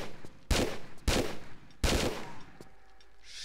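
Gunfire in Tomb Raider 3, three loud, close shots about half a second apart, each with a short decaying tail, followed by a fainter click and lingering room ambience.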